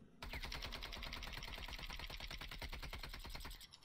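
Rapid automatic gunfire in a video game, heard as a steady, evenly spaced stream of shots that starts abruptly and runs for a few seconds before cutting off, with no talking.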